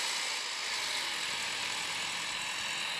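A tractor engine runs in Farming Simulator 23 at night, a constant, even hiss-like mechanical hum with no breaks and no voices.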